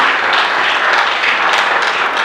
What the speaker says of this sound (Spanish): Les agradecemos un fuerte aplauso